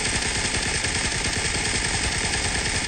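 Rapid automatic gunfire in the mobile game PUBG Mobile, a dense, steady stream of shots rattling without pause, loud and up front with no voices over it.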